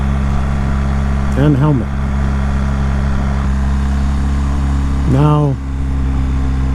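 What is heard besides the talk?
BMW 1300GS motorcycle engine in first gear at 4,000 RPM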